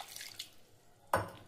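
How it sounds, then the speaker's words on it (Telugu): Water is poured into cooked lentil dal made with dosakaya cucumber: a quiet kitchen background, then a sudden close splash and gurgle near the end. "సో వాటర్ యాడ్ చేస్తున్నా"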